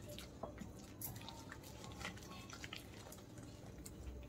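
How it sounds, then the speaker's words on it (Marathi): Water trickles a little at a time into a salted flour batter for raw banana fry, heard as faint, scattered drips and small splashes over a quiet background, with no talking. "थोडं थोडं पाणी टाकूया."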